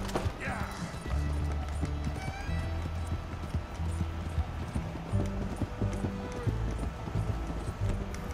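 Horse hooves clip-clop steadily at a gallop in the video game Red Dead Redemption 2, close and continuous, with an occasional whinny and someone talking over the top.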